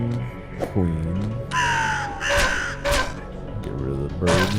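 Crows caw repeatedly in the Forbidden Solitaire video game, loud harsh calls in several bursts over a steady game backdrop.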